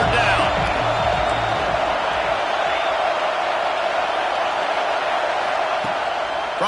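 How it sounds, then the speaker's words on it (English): Dense, continuous roar of a football stadium crowd on third down, loud and sustained throughout with no breaks. "Decibels rising as the crowd gets behind this defense on third down."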